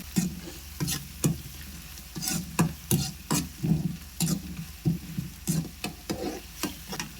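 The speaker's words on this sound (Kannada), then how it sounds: "ಈ ಸಮಯದಲ್ಲಿ ನಾನು ಈರುಳ್ಳಿನ ಪೂರ್ತಿಯಾಗಿ ಹಾಕೊಂಡ್ರ ಮೇಲೆ ಒಂಚೂರು ಬಾಡಿಸ್ಕೋಬೇಕು" Onions frying in a pan while being stirred, with repeated scraping strokes in an uneven rhythm over a steady sizzle, close and fairly loud.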